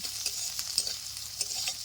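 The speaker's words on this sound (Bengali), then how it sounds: "আদা রসুন আর কাঁচা লঙ্কা সুন্দর করে একটু বাজে নেব" Chopped ginger, garlic and green chili fry in hot mustard oil, giving a close, continuous sizzle with crackling pops and spits scattered throughout.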